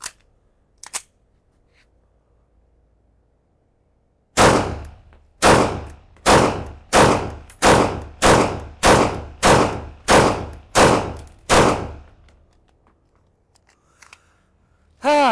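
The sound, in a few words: Canik TTI Combat pistol being fired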